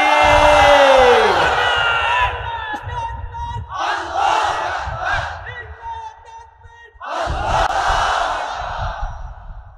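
A large crowd answers a Takbir call at a Bangladeshi political gathering with loud, repeated chants of Allahu Akbar. Two more swelling shouted waves follow after short pauses, all close and booming.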